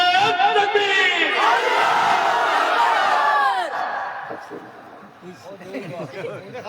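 A large crowd at a religious gathering roars a takbir response in unison, a loud sustained mass of voices that swells for a few seconds and then falls away into scattered murmuring and chatter.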